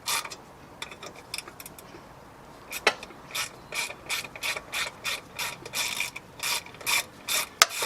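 A socket ratchet clicks in short repeated bursts while tightening exhaust bolts on an MTD Yardman DX70 riding mower, the ratcheting growing steadier and louder toward the end with a single sharp knock partway through.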